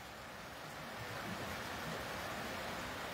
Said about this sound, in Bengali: মুষলধারে বৃষ্টি চলমান রয়েছে